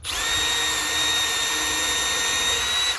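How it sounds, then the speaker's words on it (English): A power drill whines steadily at high speed for a few seconds while drilling pilot holes in wood for a planter box, a sustained close motor tone with a faint rise near the end. "so I can drill out some holes"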